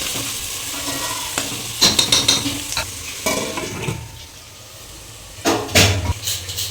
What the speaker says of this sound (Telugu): అలాగే ఉల్లిపాయ ముక్కలు పచ్చిమిరపకాయ ముక్కలు వేసుకోవాలి